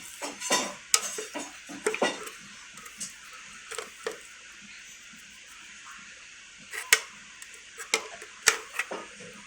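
Black pepper powder being stirred into a paste in a pan: sparse, close scraping and clinking of a utensil against the pan in short irregular bursts, with quiet pauses between.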